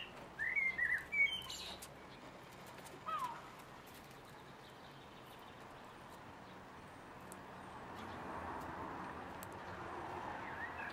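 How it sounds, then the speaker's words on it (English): A blackbird sings in a backyard patio garden, with a few bright warbled phrases early on before fading into quiet outdoor ambience. "hopefully that blackbird will sing us through this this video"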